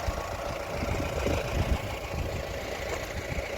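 A motorbike engine runs steadily during an all-India road trip, a continuous low rumbling drone with constant loudness and no voices.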